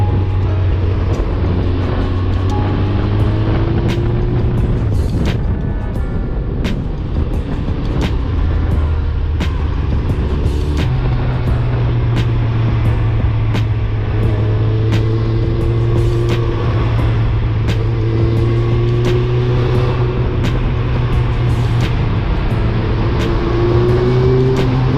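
Engine drone from motorcycles, including a BMW S1000RR, riding through city traffic, a loud continuous hum with shifting pitch as gears change and revs rise, steady wind rush, no talking.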